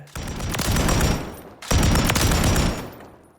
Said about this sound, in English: So that's those two machine guns.